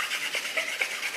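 Wooden sticks rubbed together in a hand drill fire-making technique give a soft, rapid rasping friction, close up and continuous with slight rhythmic pulses.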